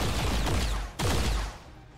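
In a sci-fi strategy video game, a gunshot rings out as a loud sharp crack with a rumbling tail, followed by a second blast about a second later.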